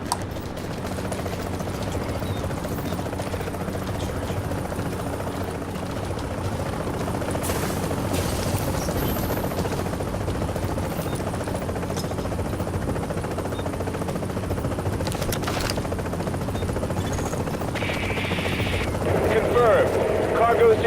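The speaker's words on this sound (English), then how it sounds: "9 seconds till the chopper comes in." Video game helicopter arriving in The Division, a continuous rotor drone building slightly louder over about twenty seconds, with other game noises mixed in.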